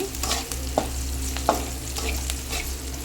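Onions fry in a pan with a steady close sizzle, and a utensil knocks against the pan now and then as they are stirred. No voices.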